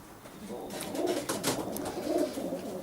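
Pigeons bred for racing coo softly and repeatedly over steady background ambience, several low rolling calls at moderate distance with no speech.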